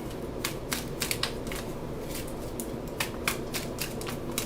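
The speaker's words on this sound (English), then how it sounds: "I'm going to keep shuffling." A deck of tarot cards is shuffled repeatedly, making a quick series of crisp riffling bursts at an irregular rhythm over a steady low background hum.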